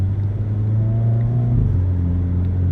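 A Hyundai Kona N in manual mode, second gear, pulls hard, its engine note a steady rising drone heard from inside the cabin, with no talking.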